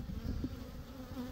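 Honeybees buzz steadily around a hive frame during a spring hive inspection, a close, continuous droning hum with slight swells as individual bees pass near.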